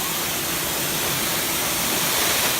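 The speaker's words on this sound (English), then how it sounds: "So it's turning on the calibration head," A DMC Technosand 53-inch wide belt sander runs with its calibration head switched on, giving a loud, steady broadband whoosh and roar with no break or change in level.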